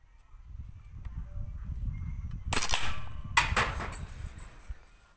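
A homemade marble crossbow with a cast steel barrel is fired: two sharp snapping cracks about a second apart, close and fairly loud over low background rumble, with no talk.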